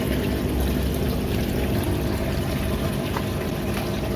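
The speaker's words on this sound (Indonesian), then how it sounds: "Nah, tuh kan kelihatan air mengalir." Water running through 2.5-inch PVC pipes in a hydroponic pak choy setup, a steady close wash of flowing and trickling liquid that continues evenly throughout with no talking.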